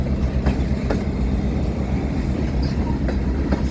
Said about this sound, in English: train, one engine,